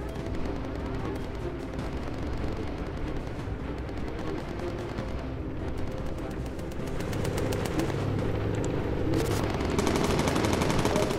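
Aircraft machine guns from bomber gunners in the game Bomber Crew, a sustained rattle of automatic fire over a constant engine drone and explosions, dense and loud with rapid repeated bursts toward the end.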